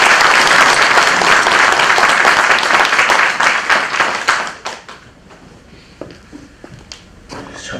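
Applause at a graduation ceremony for a preaching school, with dense, loud clapping from a full hall that fades out after about four seconds, leaving a few scattered claps and room noise.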